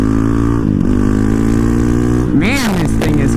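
A Honda CRF450RL dirt bike engine hums steadily, then surges into a sharp rising-and-falling rev as the rider pulls a wheelie, loud and close, with a voice talking over the steady part.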